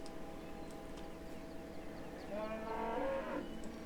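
Cattle in the farming video game Farming Simulator 15 let out a drawn-out moo that rises near the end of the clip, over a constant backdrop of farm ambience.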